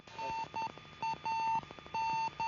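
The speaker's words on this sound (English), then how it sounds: "You can hear the beeping of the radio beacon on the Soyuz" The radio beacon of a Soyuz capsule after re-entry and landing beeps a steady tone in an irregular pattern of short and longer pulses, repeating against a faint hum of background noise.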